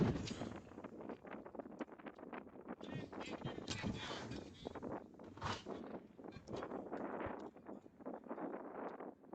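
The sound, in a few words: wind blowing during a baseball game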